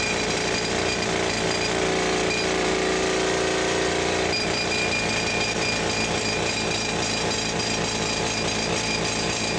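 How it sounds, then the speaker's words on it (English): Pneumatic rock drill boring blast holes at the bottom of a hard rock mine shaft about 23 feet deep, a loud continuous hammering chatter filling the whole stretch, close and steady, with a brief spoken word near the end. "Now that the holes have been drilled"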